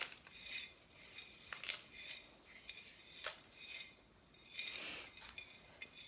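A utensil stirring dry mushroom onion soup mix in a large container, making quiet repeated scraping and rustling strokes with light clinks, fairly faint and without talk.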